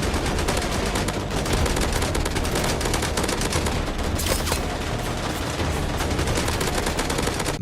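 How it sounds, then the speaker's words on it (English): Rapid, continuous automatic gunfire from the shooter game Ashfall: dense, loud, unbroken volleys with a thin, light quality like toy guns, lasting throughout. "the guns sound like kids' toys"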